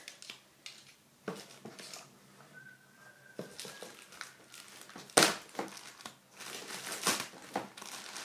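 Scissors snipping and crinkling through the plastic packaging of a Grit Elite 2016 scooter, irregular cuts and rustles up close, with sharper crunches partway through.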